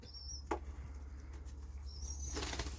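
A young pet pigeon practicing flight flaps its wings in a loft, two short bursts of fluttering, one brief near the start and a longer one toward the end, over quiet room hum.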